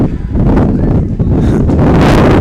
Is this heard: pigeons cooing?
no